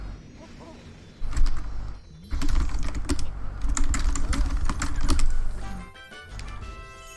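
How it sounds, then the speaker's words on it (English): Constant clicking keystrokes on a computer keyboard, steady and fairly close, running under a video game playthrough of Super Mario Galaxy 2 with a voice talking at times. "sorry if you hear about the constant typing"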